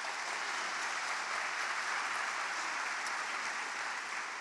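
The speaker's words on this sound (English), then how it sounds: "So I would like everybody to give all of those above a big round of applause." Faint, steady applause from an auditorium audience at a university winter graduation ceremony, a continuous distant wash of clapping with no voices over it.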